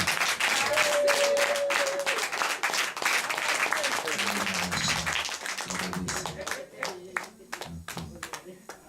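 Church congregation clapping loudly and continuously in praise, dense applause filling the room before thinning out toward the end, with voices mixed in.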